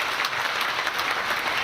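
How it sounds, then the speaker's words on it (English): Dense, steady applause from an audience at a banking conference, filling the short stretch evenly at moderate loudness with no voices over it. "Another round of applause."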